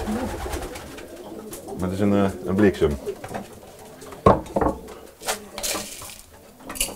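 Racing pigeons coo in a loft with a favorite cock bird nearby, deep throaty rolling coos heard close, mixed with wing flutters and a sharp knock, while someone talks over them throughout.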